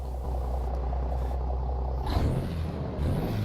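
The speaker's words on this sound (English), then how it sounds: "So this truck I believe it's a 600 horsepower Caterpillar engine we've got in it. Sounds pretty good." A truck with a 600 horsepower Caterpillar engine in American Truck Simulator, a steady deep engine rumble that shifts midway with a brief hiss before settling again.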